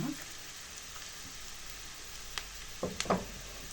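Onions fry in a pan with a steady, faint crackling sizzle, joined near the end by a few louder scraping stirs.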